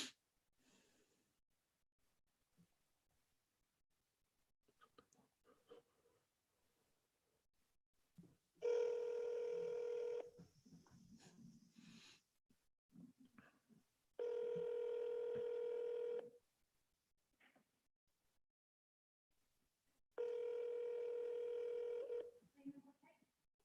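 Outgoing phone call with a ringback tone: three long, loud ring bursts spaced several seconds apart, with quiet dialing and faint handling noise between them and no talk over the rings.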